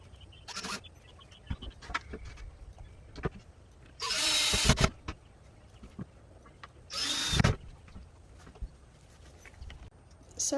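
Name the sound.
power drill driving screws into wood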